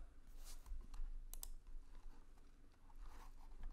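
Keys on a computer keyboard are tapped in a quiet, irregular patter of light clicks, close by and faint, with no talking.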